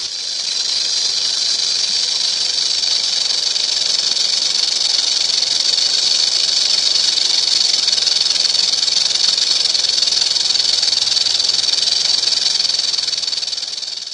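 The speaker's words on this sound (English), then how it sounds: "here is a quick little clip of what a rattle sounds like" A rattlesnake shakes its tail in warning, a steady, dense, hissing buzz that holds unbroken and loud for the whole stretch with no talk.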